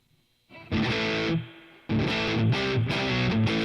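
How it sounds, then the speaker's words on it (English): Electric guitar chords through a Boss Katana MKII amp's spring reverb struck one after another, each ringing out with a splashy, springy reverb tail; played alone, fairly loud. "It's a decent spring reverb sound."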